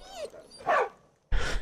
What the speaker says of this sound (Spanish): Voy a por el perro que se está muriendo.